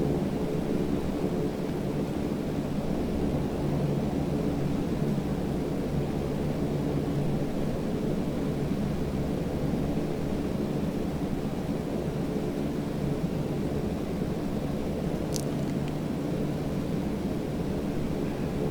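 The engine of a DASH7 aircraft in Microsoft Flight Simulator 2020 drones steadily and evenly throughout, a dense, constant rumbling roar with no talking.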